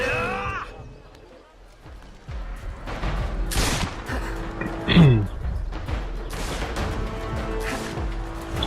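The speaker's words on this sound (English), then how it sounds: "I hate gunshots, or just me?" Bursts of gunfire from Assassin's Creed III: Liberation crack through busy game audio, with a sharp loud blast midway and scattered shots around it, over steady background music and effects.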